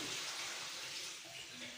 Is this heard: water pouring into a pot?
yes